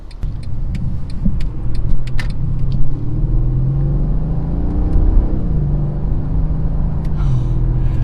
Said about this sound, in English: It's not very often I get to drive twin turbo V8s